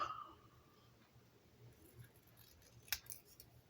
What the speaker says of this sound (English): So I need to cut out the stamp